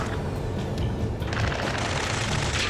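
Dense, continuous automatic gunfire from a firefight in the combat flight game Ace Combat 7: Skies Unknown, loud rapid bursts layered over a steady roar of battle with no voices.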